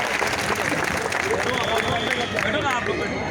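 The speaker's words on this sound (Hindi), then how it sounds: "तालियां हो जाए।" Crowd applause at a political rally of the Bahujan Vikas Aghadi party, dense continuous clapping filling the space, with a voice talking over it.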